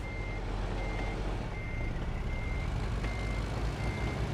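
Steady, evenly spaced reversing beeps from a truck backing up with its trailer in American Truck Simulator, sounding over a loud constant engine rumble and cab drone throughout.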